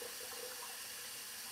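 A bathroom tap runs steadily while the water heats up before a shave, giving a continuous, even hiss and splash into the sink with no voices.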